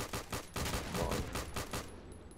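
Rapid, rhythmic bursts of gunfire from the Airship Assault airship combat game, quiet and distant, rattling for about two seconds before fading out.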